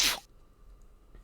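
A single sharp sneeze bursts out at the very start, loud and close, followed by near silence.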